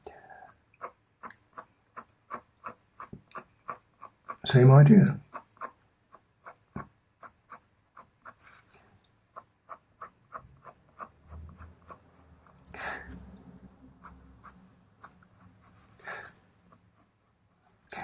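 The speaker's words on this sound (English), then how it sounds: "come back in with your 2B pencil. Now here you can draw as much as you want or as little as you want." A 2B pencil scratches across paper in short, regular strokes, close and soft, with a brief louder rustle near the start and a few murmured words later.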